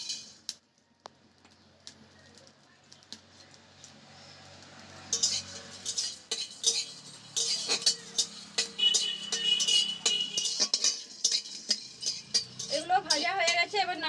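Whole coriander seeds, cumin and black peppercorns dry roasting in a wok, giving small scattered clinks, rattles and faint sizzling that grow busier and louder after the first few seconds, with the spatula scraping and stirring close by.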